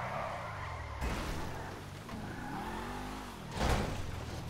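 A car in the GTA 5 video game drives toward an end corner. The engine revs and rises in pitch, then drops and rises again, and a short skid screech comes near the end. It is moderately loud, with no talking.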